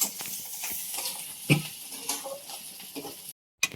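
Onion roasts in a pan with a soft sizzle broken by spoon scrapes and clinks against the metal, an irregular stirring rhythm before a brief cut to silence near the end.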